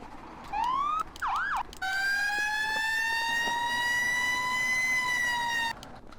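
A loud emergency vehicle siren in the game Flashing Lights (FS:911) wails, sweeping up and down, then settles into a long, steady high tone before cutting off, close and alone without voices.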